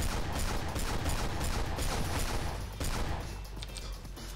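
Sustained gunfire crackles through the Battlefield Heroes video game match, a steady dense wash of shots at moderate distance that keeps going without a break before thinning slightly toward the end.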